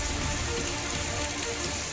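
Heavy monsoon rain pours down in Gujarat, a dense, continuous hiss of water striking surfaces with no let-up, loud and close, with no voices.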